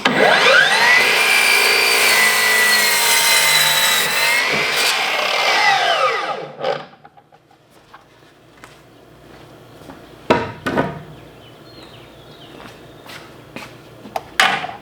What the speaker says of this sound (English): So this first 2x4s, we're gonna cut 4 of them at 71 inches